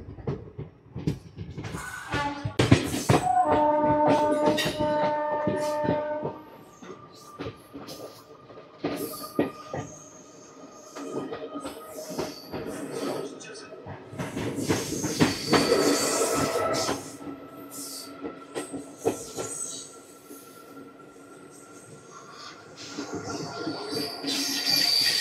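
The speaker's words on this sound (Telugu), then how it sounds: "ఇచ్చాపురం స్టేషన్ నుంచి అయితే మా ట్రైన్ అయితే స్టార్ట్ అయిపోయింది 2 మినిట్స్ హాల్ట్ తర్వాత" An ICF-coach Tirupati-Puri Express rolls away after a station halt, wheels clattering and squealing loudly on the rails with rising and falling rumble, close and continuous.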